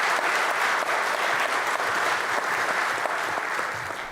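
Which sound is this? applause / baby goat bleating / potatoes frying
applause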